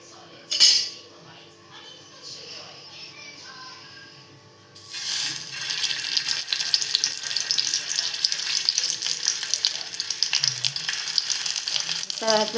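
Ghee heating in a pan for frying modak sizzles steadily and loudly after a quiet start with a few metallic clinks, the hiss filling the second half continuously.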